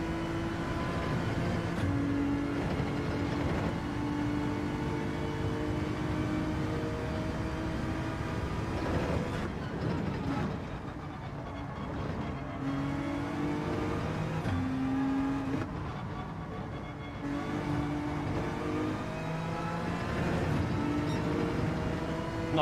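Race car engines in the video game Gran Turismo 7, revving and shifting repeatedly through a lap, with rising and falling engine tones, brief lifts off the throttle, and no talk over the sound.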